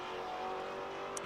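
A Maserati race car at Silverstone roars past with a steady, loud engine drone through the whole short moment.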